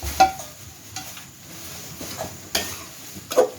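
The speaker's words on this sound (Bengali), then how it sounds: "এখন আমি ভেজে রাখা বেগুনগুলোকে দিয়ে দিব।" Fried eggplant pieces dropped into a yogurt curry masala in a pan, soft sizzling with a few clinks and stirring taps, quiet and close, no voices.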